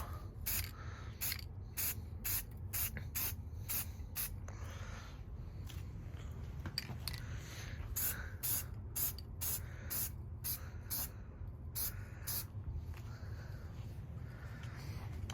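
Short hissing bursts of spray glue come in quick repeated spurts, laying coats of adhesive for a Kaminari carbon roof on an RWB Porsche, close and fairly faint against a quiet background.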